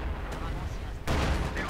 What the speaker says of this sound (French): Le barrage d'artillerie. Les sections tirent sur toutes les cibles.